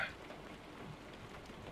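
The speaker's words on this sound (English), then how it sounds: "It's raining again, of course." Steady rain in the American Truck Simulator video game, a soft continuous hiss of falling drops with faint patters, even and moderately quiet throughout with no voices.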